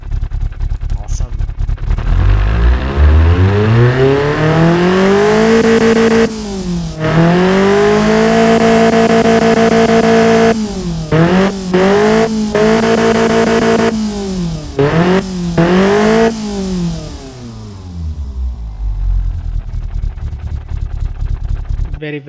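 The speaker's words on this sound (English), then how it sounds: "So let's fire it up." A Nissan KA24DE four-cylinder engine idles and revs repeatedly, pitch climbing and falling through several loud, close throttle blips with lumpy cam character over about twenty seconds, a voice speaking over parts of it.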